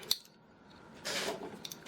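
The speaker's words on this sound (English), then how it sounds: "a pair of scissors I always keep in my projects" Scissors handled while setting up a cross-stitch project: a sharp metallic click near the start, then a longer close rustling, scraping passage, with no voices.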